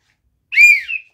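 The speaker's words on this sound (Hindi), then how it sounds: "सीटी बजाओ" One short, sharp whistle blast sounds alone, clear and close, with a slight falling trail at the end.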